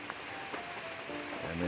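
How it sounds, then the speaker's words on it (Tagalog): Heavy rain pours steadily onto a fresh cement pour at a home construction site, a dense even hiss that swells slightly louder toward the end, with no voices. "lakas na naman po ang ulan ay."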